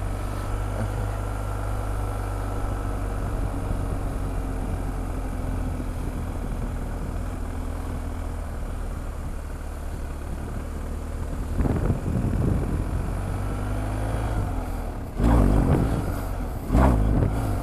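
Motorcycle engine running steadily during parking lot wheelie practice, a constant droning hum that swells in a few brief surges near the end, with wind buffeting the microphone.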